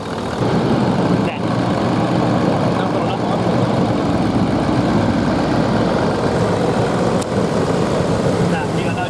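A 4WD vehicle's engine rumbles loudly and steadily close by, holding a constant idle with little change in pitch and no clear revving across the stretch.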